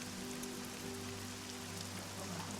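Steady rain falls throughout, a dense even hiss of drops with a faint low hum beneath and no voices.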